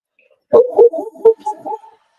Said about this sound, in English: He has a very impassioned dog as well